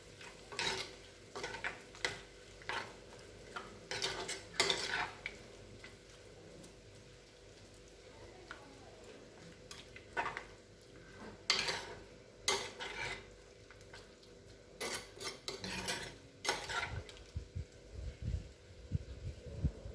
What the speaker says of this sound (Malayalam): നമുക്ക് മിക്സ് ചെയ്ത് കൊടുക്കാം